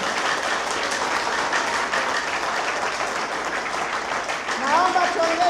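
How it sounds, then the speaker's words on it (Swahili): A crowd claps continuously at an official announcement by Tanzania's health minister, a dense, steady wash of applause from start to finish, with a voice rising briefly near the end. "Naomba tuongeze makofi mengi."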